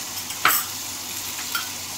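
Onions and tomatoes sauté in a pan as a soft, even hiss. A couple of sharp scrapes and clinks come from a stirring utensil, and no voice is heard.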